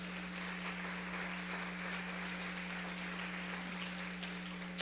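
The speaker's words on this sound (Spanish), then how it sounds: "aplaude a Jesús" A church congregation applauds steadily, a dense spread of many hands clapping at moderate distance, sustained over a constant low hum.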